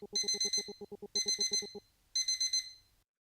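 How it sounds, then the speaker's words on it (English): An alarm clock rings in the video game Witch's Bound, sounding three loud bursts of rapid electronic beeping, each a quick train of bright pulses lasting about a second, with short gaps between them and no talk. "The alarm cuts through a banter, its ring making me wince."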